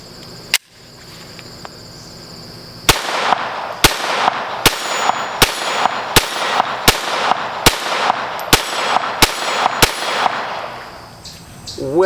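Glock 44 pistol shots ringing off a steel target, one sharp crack followed by a steady series of about a dozen evenly spaced shots with metallic pings, close and loud.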